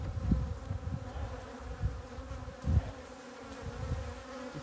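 Honey bees drone steadily at an open heather honey hive, a close, dense hum with soft swells and low thumps from handling the frames, with no talk.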